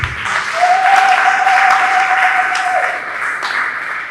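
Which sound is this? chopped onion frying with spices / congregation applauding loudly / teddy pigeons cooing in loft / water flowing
congregation applauding loudly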